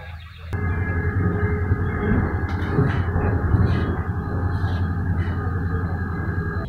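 Steady low rumble and rattle of a Chinese sleeper train near Lanzhou rolling along the rails, heard from inside the carriage, continuous and fairly loud with faint clatter on top.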